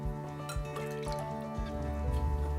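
Orange juice pours into a mixing bowl during home baking in an RV kitchen, giving a soft, steady liquid trickle with drips beneath continuous background music.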